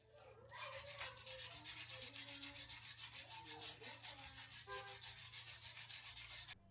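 Continuous close scratchy rubbing of sandpaper on an aluminum remote, steady and fairly loud with faint tonal ringing underneath, stopping sharply at the end.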